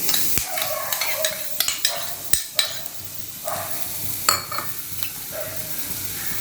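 Coconut and whole spices frying in a little oil in a hot kadai, with a steady soft sizzle broken by sharp clinks and scrapes of a stirring spoon against the pan.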